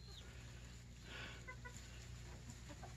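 Chickens near a coop give soft, scattered clucks at a moderate distance, a few short calls over a low steady background hum.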